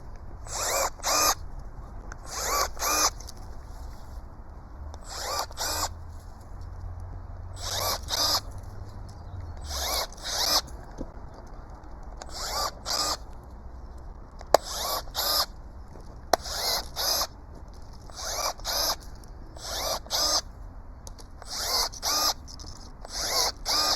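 Milwaukee M12 brushless cordless pruning shears cutting up a peach tree branch make repeated short motorized whirring snips at a steady rhythm, each cut a brief close burst with quiet gaps between.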